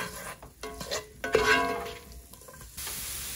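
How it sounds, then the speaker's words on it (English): Two garlic cloves frying in a pan are stirred, giving a close sizzle broken by a few scraping stirs, with no one speaking. "Now we're going to add some garlic. This is 2 cloves of garlic. And we're just going to stir it for probably about a minute."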